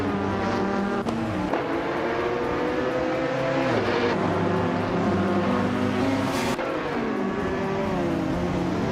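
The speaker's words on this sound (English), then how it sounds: "Dre192Gex is starting on pole with a classic 2012 Morgan LMP 2A" Engines of a 2012 Morgan LMP2 race car and rival cars in a racing video game roar in a continuous loud drone, their pitch rising and dropping with several gear shifts.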